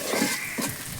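Tomatoes being stirred in a pan during village-style cooking, with a short burst of close, scraping stirring over a soft sizzle.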